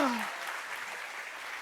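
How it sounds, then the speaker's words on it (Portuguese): Church congregation breaking into applause, a burst of clapping that fades gradually over a second and a half, with a preacher's voice trailing off at the start. "aplaude o Senhor, porque está no nosso bolso mesmo"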